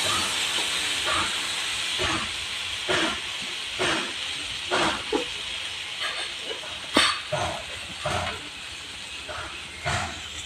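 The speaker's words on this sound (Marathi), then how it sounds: "एकदा तवा तापला त्यामुळे खूप सुंदर येते" Rice and urad dal amboli batter cooks on a hot griddle over a wood fire, giving a steady sizzling hiss with intermittent brief scraping and crackling bursts, while someone talks softly in the background.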